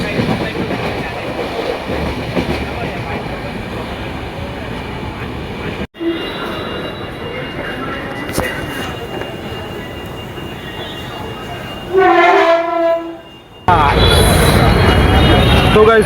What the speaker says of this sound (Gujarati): ફાઇનલી અમારી ટ્રેન આવી રહી છે